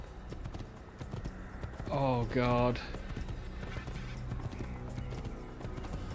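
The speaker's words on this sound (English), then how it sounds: "I don't think they even studied how horses galloped in this game." A horse gallops with steady clip-clop hoofbeats in the Assassin's Creed video game. The hooves run throughout beneath a voice, with a brief louder tonal burst near the middle.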